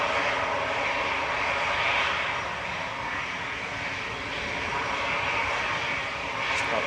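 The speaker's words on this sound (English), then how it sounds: "we're going to stick with the A380. Coming in from Dubai with flight 21 from Emirates" An Emirates Airbus A380 jet arriving at Manchester Airport from Dubai, a loud, steady engine roar with a bright hissing whine held throughout at close range, swelling slightly at the start and end.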